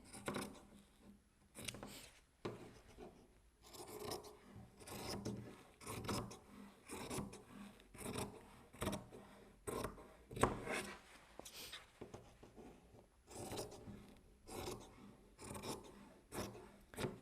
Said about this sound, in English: So now I'm just going to chop off my excess batting.